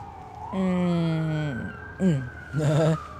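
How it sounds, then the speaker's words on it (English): Police siren passing by outdoors, a loud wailing tone sweeping up and down, breaking off briefly and then resuming in short bursts as the vehicle moves past. "Just a couple seconds for the siren to pass."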